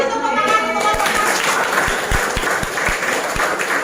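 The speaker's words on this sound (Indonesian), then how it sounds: "Beri tepuk tangan untuk teman-teman." Classroom applause for classmates during a micro-teaching session: a steady wash of clapping from a group of students, with scattered sharper individual claps standing out near the front, lasting a few seconds without speech.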